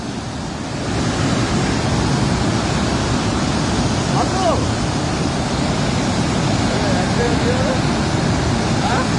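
Released flood water rushing and falling fast: a loud, continuous roaring wash of water close by, steady after a brief quieter start, with faint voices briefly audible underneath.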